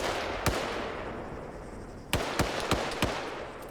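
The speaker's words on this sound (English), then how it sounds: "Grenades being thrown on his position." Faint grenade blasts in a video game: one sharp pop early on, then a quick cluster of four cracks in the second half, all heard distantly over a quiet background hiss.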